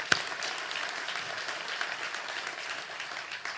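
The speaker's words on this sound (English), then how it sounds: "That all deserves a round of applause." A crowd claps steadily through a short stretch during a Denver mayor's State of the City address, an even wash of applause at moderate level.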